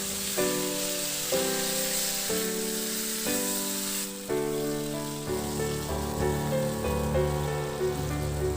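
Pork liempo sizzles with tomatoes in a pan, a steady hissing fry running continuously beneath prominent melodic background music.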